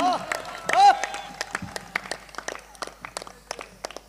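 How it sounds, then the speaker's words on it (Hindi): At a Hindi poetry recital, a voice is heard briefly at the start, then an audience breaks into scattered, uneven clapping of moderate loudness with individual claps standing out. "तालियां गलत जगह बजा दी आपने।"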